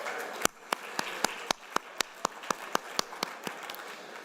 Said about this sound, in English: Let's give our panelists one more round of applause.